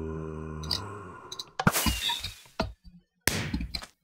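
Fireworks in Minecraft 1.6.2, including a creeper-shaped burst, give sharp launch pops and crackling explosions in a few separate bursts, fairly quiet and alone.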